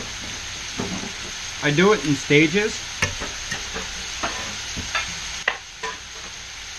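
Butter sizzles in a hot stainless steel pan with shrimp, a steady hiss under clattering stirring, while a person talks over it.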